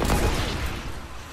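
Sniper gunfire in the Fortnite video game: a loud, close burst of gunfire with a booming low rumble that decays over about a second.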